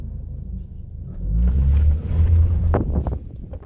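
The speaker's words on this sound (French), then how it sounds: "Je vais essayer une petite accélération pour voir." Small 1.5-litre engine of a 2017 Ford Escape (Kuga) heard from inside the cabin as it accelerates, a low rumble swelling midway then easing, with a brief voice near the end.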